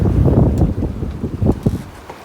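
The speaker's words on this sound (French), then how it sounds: "Maintenant c'est la mer du vent, il y a jusqu'à 22 nœuds." Strong sea wind of up to 22 knots buffets a sailboat on passage from Gijón to Les Sables-d'Olonne, a loud, steady low roar with gusty surges and no speech.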